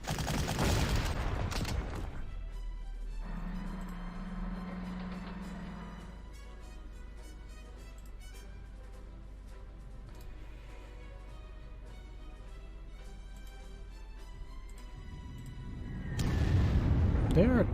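Artillery fire in the Panzer Corps World War II strategy game, with heavy booming bursts at the start and end and a quieter stretch of low rumble and faint tones between them.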